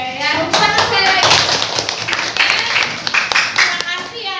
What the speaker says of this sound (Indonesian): ya tepuk tangan sekali lagi